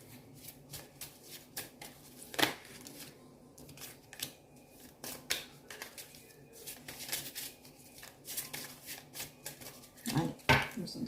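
A deck of tarot cards is shuffled by hand, giving soft irregular riffling and slapping taps in short bursts, fairly quiet and close, with one louder flurry near the end.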